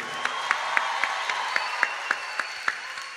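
Audience at a live music show applauds, with a handful of distinct claps standing out in a regular rhythm over a steady bed of crowd clapping; moderately loud and close, no talking.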